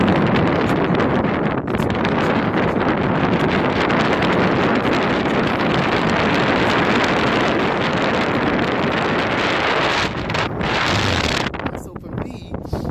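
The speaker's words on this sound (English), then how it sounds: "You see, it's really windy out here." Strong wind buffets the microphone outdoors, a loud continuous rumbling roar that fills the whole clip and eases off briefly near the end.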